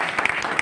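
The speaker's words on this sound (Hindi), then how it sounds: "लेकिन ताली बजानी चाहिए।" A brief burst of clapping from an audience, a dense spatter of hand claps that is fairly loud and close.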